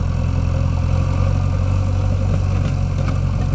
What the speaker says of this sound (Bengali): দেখুন জেসিবি কাজ, জেসিবি কীভাবে চালাচ্ছে দেখুন